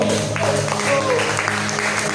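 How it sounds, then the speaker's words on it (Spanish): A church congregation claps together in praise, a dense continuous wash of hand claps sustained evenly across the short moment, with faint voices mixed underneath. "Demos el aplauso al Señor."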